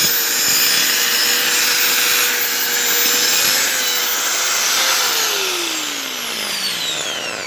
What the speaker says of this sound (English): We're gonna do some die grinding on this piece right here.